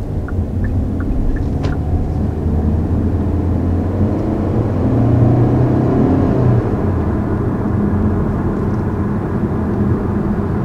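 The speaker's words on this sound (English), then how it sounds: "First acceleration here in the 2020 Soul, definitely feels pretty peppy." A 2020 Kia Soul accelerates on a test drive, its engine a loud, steady low rumble with road and wind noise inside the cabin, swelling slightly midway; no one speaks.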